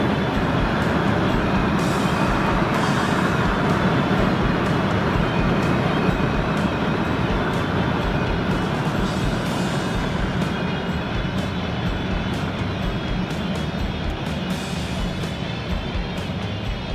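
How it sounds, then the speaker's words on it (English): A Ford Crown Victoria with a 302 V8 cruises along with a continuous low engine and road rumble, loud and steady with heavy tire and wind noise throughout and no voices. "The 302 is always known for being a torquey little motor."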